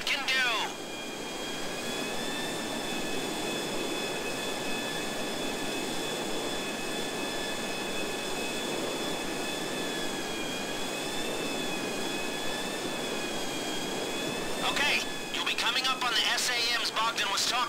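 The Volatile bomber aircraft in a video game drones with loud, continuous jet engine roar and whining tones, steady for most of the stretch, while a voice talks over it and other sounds cut in near the end.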